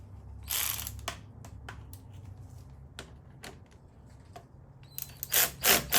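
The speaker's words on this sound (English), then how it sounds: "And tighten it down with a 10 mil." A 10 mm ratchet tightens a bolt on a motorcycle, giving a series of quick, close mechanical clicks spread across the moment, with louder clatter toward the end.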